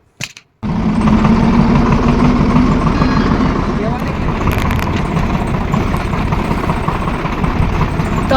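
A tractor engine drones steadily and loudly throughout a rural ride, its low rumble continuous after a brief opening pause, with people talking over it.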